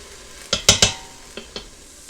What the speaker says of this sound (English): I'm going to place my beans that have been rinsed